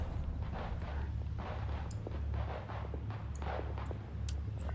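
Repeated launches and blasts from an M203 grenade launcher in the Iraq '04 Simulator video game, several sharp bursts over a dense, continuous rumble of combat noise.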